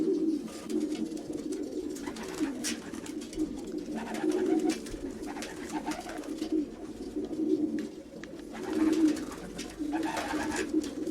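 Racing pigeons coo in soft, low, rolling murmurs, several birds overlapping steadily close by, with a few light chirps and rustles mixed in.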